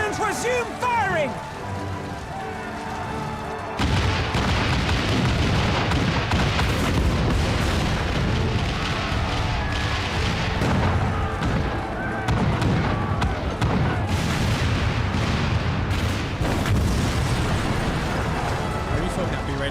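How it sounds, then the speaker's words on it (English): Cannons fire in a video game battle, heavy booms and explosions rumbling loud and repeated over a dense, chaotic soundscape after a brief opening passage. "All cannons resume firing!"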